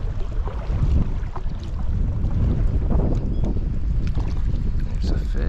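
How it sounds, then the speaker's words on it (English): Strong wind roars and buffets the microphone outdoors during trout fishing in Wisconsin, a steady, loud rumble of gusts that continues through the clip without a break. "That wind is vicious."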